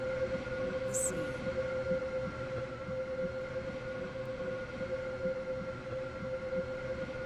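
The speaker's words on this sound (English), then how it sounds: "Train now approaching platform 2." Steady low rumble of a train approaching a platform in the railway game Stepford County Railway, with a sustained tonal hum and a brief high chime near the start, no speech.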